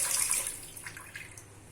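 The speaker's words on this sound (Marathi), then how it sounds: "पाणी पण नळाला आलं." Water gushes from a tap into a basin, a bright splashing rush that softens to a quieter trickle within a couple of seconds.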